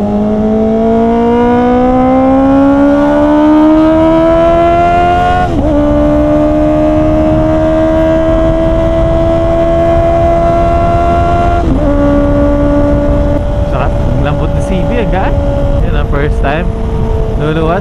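A Honda CB650R motorcycle revs hard while riding on an expressway, its loud, close four-cylinder howl climbing through several gears with short dips at each shift, wind noise behind.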